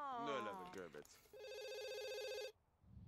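Telephone ringing in The Sims 2, a steady electronic ring tone held for about a second after a stretch of game speech, then cut off into quiet.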